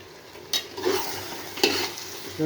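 Mutton being sautéed with biryani masala in a pan, a soft sizzle under occasional scraping stirs of a spoon against the metal, with a couple of sharper clinks.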